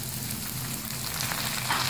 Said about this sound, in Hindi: अब इसमें हम टमाटर शामिल करेंगे।